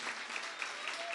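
Audience applause at the opening of a new cinema hall at the Gran Rivadiva complex in Floresta, Argentina: a brief, steady wash of dense clapping at moderate level, with no talk over it.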